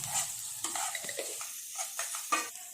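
Chopped onions frying for garlic rice and being mixed in a pan, with a hissing sizzle under a quick series of scraping stirs, close and moderately quiet.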